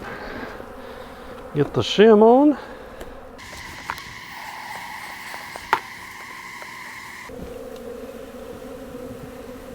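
Honey bees buzzing around a beehive during a freeze survival check, a constant droning hum close by, with a brief wavering squeak and clunks from handling the hive and someone speaking briefly.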